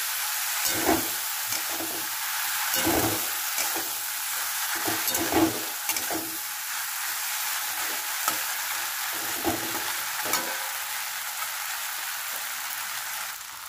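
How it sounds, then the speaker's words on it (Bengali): Kochur loti (taro stolons) fry over very low heat in a pan, with a continuous crackling sizzle broken by repeated scraping stirs at an uneven rhythm, close and fairly loud, no voices. "কচুরলতিটা ছেড়ে আমি একটুখানি নেড়ে দিচ্ছি। এটা কিন্তু একদম ধিমে আঁচে হবে।"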